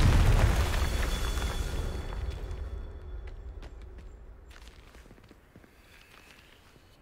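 A Confringo fire spell explodes in Hogwarts Legacy on Nintendo Switch, a loud booming blast at the start that fades into a long, dwindling rumble with a few faint clicks near the end.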